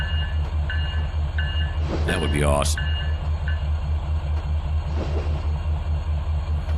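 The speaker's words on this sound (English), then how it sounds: "watching the trains go back and forth" Train passing a grade crossing in the Trainz 2019 railroad simulator, with a steady low rumble of rolling stock throughout, a brief rising whistle-like tone partway through and a voice speaking over it.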